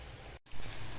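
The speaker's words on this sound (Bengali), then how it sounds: "আর উচ্ছে ভাজা হচ্ছে।" Bitter gourd frying in a pan gives a steady, close sizzling hiss with a very brief break in the sound.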